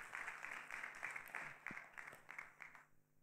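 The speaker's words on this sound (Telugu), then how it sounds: "సో హ్యాపీగా ఉన్న వాళ్ళు అందరూ చప్పట్లు కొట్టి" A church congregation claps together in a quiet, distant burst of applause that fades out after about three seconds.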